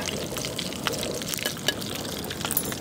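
Salty water from cooked shrimp is poured into a cooking pot at an outdoor camp cookout, a soft, close trickle and splash with a few small drips, fairly quiet and without speech.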